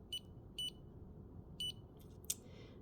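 Three short, high electronic beeps from a Vielight NeuroPro 2 brain-stimulation device sound at uneven intervals in a quiet room, followed by a single faint click.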